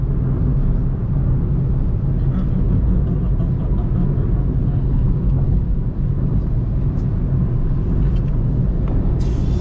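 A car engine rumbles steadily close by as the vehicle drives and pulls in to park near home, a continuous low drone with no talk.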